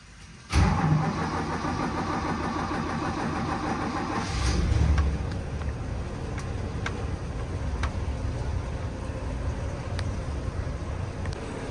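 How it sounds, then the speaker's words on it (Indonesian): A Toyota 2F engine in a 1980 Land Cruiser FJ40 cranks and fires up after a moment of quiet, briefly revs, then settles into a steady, even idle that continues without voices. "kali ini kita akan menghidupkan mesin posisi"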